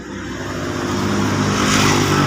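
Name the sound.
Nissan Urban TD27 engine running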